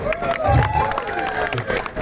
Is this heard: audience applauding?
yes